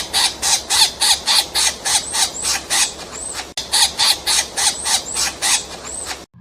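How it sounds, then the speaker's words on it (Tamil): A woodpecker pecks at a tree in regular, rapid bursts, about three per second, with short squeaky chirps mixed in. The same loud, close sequence repeats a second time. "மரங்களில் கொத்துவது மரங்கொத்தியாம், அது கொத்தும் போது கீச்சிடுமாம்."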